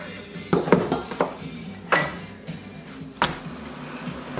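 Raw beef for biltong being handled in a stainless steel dish, a handful of sharp metallic clinks and knocks spaced irregularly over a quiet background, close and fairly loud.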